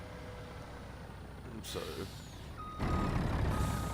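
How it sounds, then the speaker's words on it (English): A truck in the Farming Simulator 19 video game reverses, its engine droning steadily under a high repeating backup beep, with a hiss of air brakes and a brief word spoken. "I'm actually going to back this truck up right in here."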